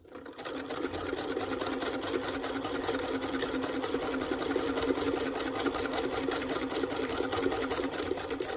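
A sewing machine stitches quilt strips onto paper with a shortened stitch, a fast, steady mechanical whirr with a rapid regular needle rhythm, loud and close throughout with no talking.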